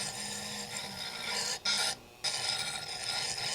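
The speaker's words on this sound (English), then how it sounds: "all I'm going to do is sand the edges" Sandpaper rasps along the sharp edges of a homemade mosaic stepping stone, a steady close gritty scraping with two brief pauses between strokes.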